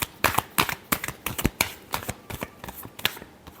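Tarot cards are shuffled by hand in a quick run of crisp, close riffling snaps and slaps, irregular bursts repeating over a few seconds with no speech.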